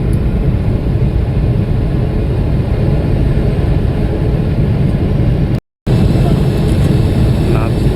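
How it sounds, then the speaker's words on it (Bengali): Steady, loud jet airliner cabin roar during descent and landing approach into Dubai, continuous throughout with a brief dropout near the end, no voices. "ল্যান্ড করছি"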